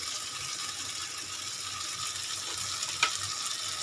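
Onion masala frying and being stirred in a pan, a low steady sizzle running throughout with one brief scrape near the end and no talk.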